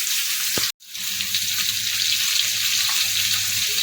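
Pumpkin and shrimp fry in hot oil in a pan for kumro chingri ghonto, giving a loud, steady close-up sizzle with one brief cut in the sound.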